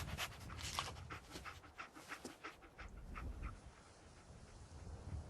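A dog panting in the video game Fallout 4, rapid rhythmic breaths heard close and quiet with faint ambient wind beneath, no speech.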